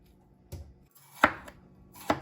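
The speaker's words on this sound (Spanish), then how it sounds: "También picamos el pepino." A knife chops through a seeded cucumber in a home kitchen, giving three sharp, separate chops spaced nearly a second apart, close and crisp with no talking.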